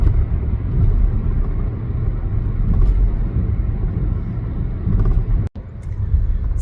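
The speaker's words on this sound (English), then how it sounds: "Traffic is very heavy in some areas, as you can see, all on the way to work." Heavy morning road traffic on the way to work, a steady low rumble of many vehicles blending into continuous drone with a brief cut near the end.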